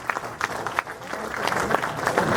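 An audience at a university graduation ceremony breaks into steady applause for its first graduating class of actuarial science, with the clapping building slightly and holding throughout.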